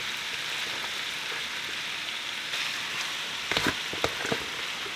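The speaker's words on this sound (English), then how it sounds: "I'm just going to pour the chicken breast, which already been marinated for about 8 hours with onion, seasoning, curry powder" Chicken breast marinated with onion, seasoning and curry powder frying in a pan, a dense steady sizzle with a few louder crackles and spatters near the end.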